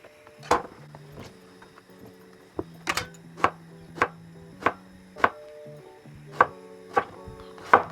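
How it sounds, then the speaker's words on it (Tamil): A knife cuts an aubergine into long pieces on a board, giving about a dozen crisp, evenly spaced chops. They sound close and clear against a quiet background. "நான் நார்மலாகவே ஓரளவு நீளமான துண்டுகளாக கத்திரிக்காய் பொரிச்ச குழம்புக்கு எப்படி வெட்டுவீங்களோ அதே மாதிரியே வெட்டிட்டு பொரிக்கலாம்"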